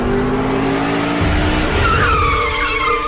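A car brakes suddenly with a tyre skid, giving a loud engine roar that breaks into a squealing screech lasting a couple of seconds, close and alone.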